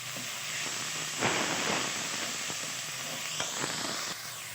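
Onion dropped into a hot pan for dahi bhindi sizzles with a steady, close hiss that flares up sharply once or twice as pieces hit the oil.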